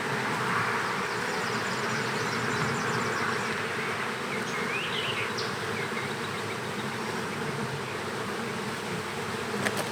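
Honey bees from a nucleus colony hive buzz in a dense, continuous drone all around, close and steady throughout with no talking.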